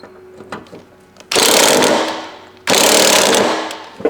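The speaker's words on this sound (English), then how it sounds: "Have my impact wrench here. Let's see if she'll come off." Two long, loud bursts of an impact wrench hammering at a bolt on an old lawn mower, each lasting over a second, with a short pause between them and faint clatter before the first.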